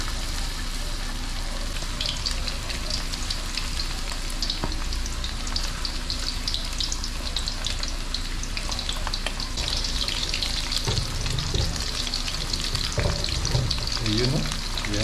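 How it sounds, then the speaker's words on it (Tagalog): Tilapia frying in hot oil, giving a steady dense crackle and sizzle throughout with occasional stirring clatter and a brief watery trickle near the end, no talking. "Prito na po natin ito."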